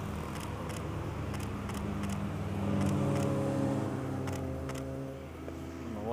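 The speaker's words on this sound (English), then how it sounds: "check out this little cage car." Small cage car with an exposed frame passing along the Tail of the Dragon road near the Highway 28 intersection, its engine droning and rising in pitch as it revs past, with sharp camera shutter clicks repeating over it.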